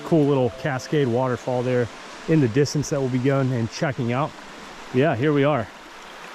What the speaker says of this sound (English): Nice little side stream rushing down, cool little cascade waterfall there in the distance